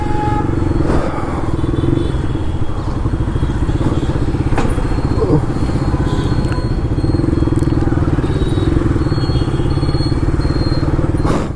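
A motorcycle riding along and pulling over to park on the roadside near a Zudio store, its engine droning steadily and loudly up close throughout, with faint clatter.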